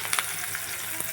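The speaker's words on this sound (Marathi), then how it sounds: "कांदा चांगला फ्राय होऊन देऊ." Chopped onion fries in a pan for a bitter gourd dish, with a soft continuous sizzle broken by a few faint stirring clicks and scrapes.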